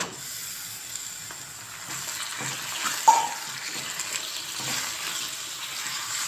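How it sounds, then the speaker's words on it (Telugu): Half a kilo of chicken fries in a pan for palak (spinach) chicken curry, a soft, steady sizzle with a single sharp clink partway through. "దీంట్లో వాటర్ అంతా బయట వచ్చేసే వరకు మంచిగా వేగనివ్వాలి చికెన్"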